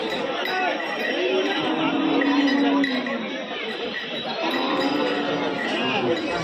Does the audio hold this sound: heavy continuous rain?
no